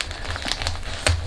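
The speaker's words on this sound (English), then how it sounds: "when you crumple aluminum foil, it doesn't immediately come undone" Aluminum foil crumpled by hand for a paper mache chicken form, giving a continuous close crinkling crackle with a louder burst of crunching near the end, no voices.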